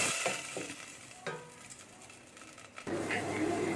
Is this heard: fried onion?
yes